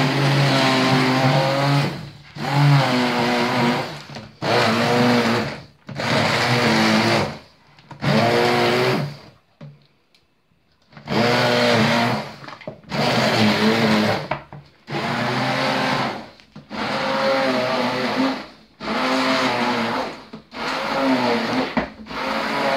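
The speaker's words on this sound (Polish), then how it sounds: "wszystkie skórki się pięknie miksują" A blender purees fruit with the peels left on in a series of about ten loud motor bursts separated by short gaps, with one longer pause near the middle.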